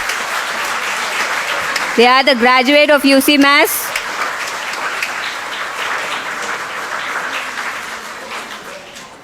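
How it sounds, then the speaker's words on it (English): Sustained crowd applause from parents at a UCMAS Kerala abacus graduation and award ceremony, a steady wash of clapping that continues under a short announcement from a man on a microphone. "please give them a big round of applause"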